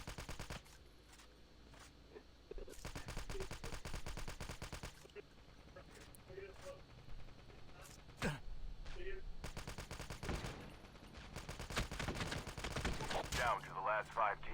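Bursts of automatic gunfire and single shots in the mobile shooter Call of Duty Mobile, rapid rattling volleys alternating with quieter gaps across the stretch, loud and close with game ambience underneath.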